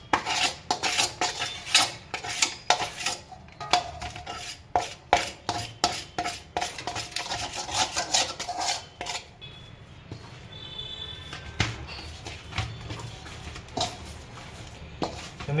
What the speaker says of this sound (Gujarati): આવી રીતે એક તવીથાથી લોટ ઉછળી નાખવાનો